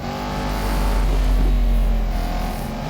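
Aston Martin Vantage AMR Pro race car engines in Real Racing 3, a steady loud droning roar that swells slightly, with no talk over it.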